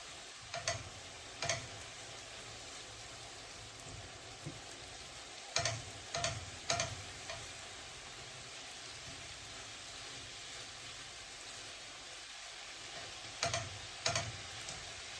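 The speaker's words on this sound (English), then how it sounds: "I'm going to add my garlic and fry that just for a couple of minutes." Garlic frying in a pan for a traditional Italian Bolognese sauce, a soft steady sizzle with occasional sharp ticks and stirring clicks, quiet and close, no talking.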